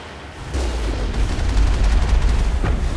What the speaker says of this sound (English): There's the artillery.